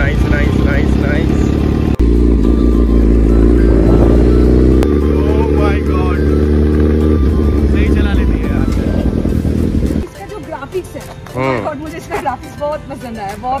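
A comfortable motorcycle hums steadily on an evening ride while people talk over its engine throughout, with the engine note changing pitch toward the end.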